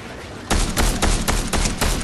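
Rapid video-game gunfire erupts after a short pause, a dense run of loud close shots in bursts with no talking.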